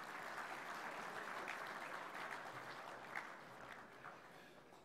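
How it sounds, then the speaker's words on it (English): Audience applause at a football club awards night honouring leading goal kickers, a sustained patter of many hands clapping, fairly distant and soft, fading slightly toward the end. "Round of applause for Jim."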